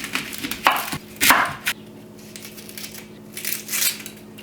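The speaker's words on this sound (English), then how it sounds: "I have a shallot here. It's a pretty big one. And I'm just going to cut this up." A knife chops through a large shallot on a cutting board, giving a few sharp, close cutting knocks with short pauses between them and a quieter burst near the end.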